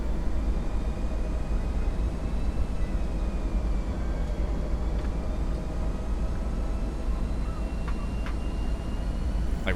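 An Airbus A320 in the X-Plane 11 flight simulator taxis slowly in hurricane winds, giving a steady, loud, broadband engine rumble and whine that holds evenly throughout, with faint tones drifting above it and no talking.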